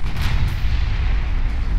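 A deep, loud, sustained rumble with a low booming roar fills the scene as a warship fires in Ultimate Admiral Dreadnoughts, steady and heavy with no voices.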